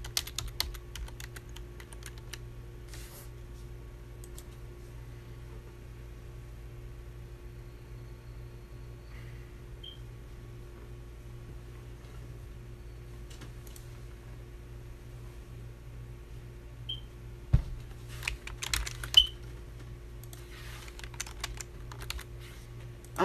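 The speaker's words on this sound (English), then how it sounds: "Let me type in gossip in the city." Typing on a computer keyboard, with soft scattered key taps in a quiet room over a low steady hum, then a denser burst of clicking toward the end.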